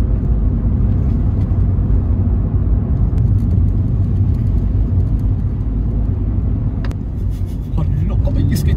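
A car engine idles and revs as it warms up on a roadside near the coast at Golden Bay, New Zealand, a steady low rumble running throughout while people talk over it.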